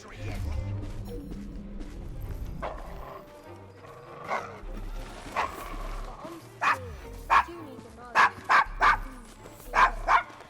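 A dog named Desmond barks in the Assassin's Creed Syndicate game, a series of sharp, fairly close barks growing more frequent over low rumbling ambience and some game voices.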